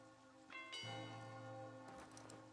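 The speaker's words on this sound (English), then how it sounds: "Bells tolling in the background." Bells toll in the Genesis Noir game scene. A deep sustained tone is struck, then a second higher strike rings out and hangs over a faint patter of rain-like background noise.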